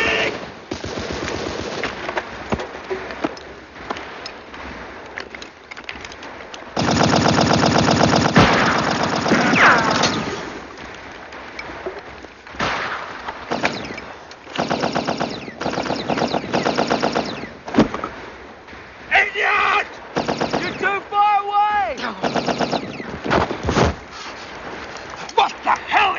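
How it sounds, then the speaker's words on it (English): Machine gun fire in a World War I trench battle scene, with bursts of rapid automatic gunfire and explosions coming and going across the scene, loud and close at times, mixed with shouting voices and scattered dog-like yelps. "Those fools, they're right under those machine guns."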